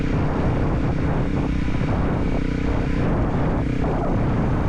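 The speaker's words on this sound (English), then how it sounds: "While I'm riding, the drone smoothly swings to the other side, but still keeps me locked in" HoverAir X1 Promax drone flying near a rider on two wheels, a steady loud buzzing engine-like drone with a continuous rumble throughout, no talk.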